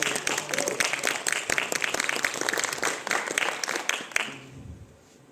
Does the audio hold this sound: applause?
yes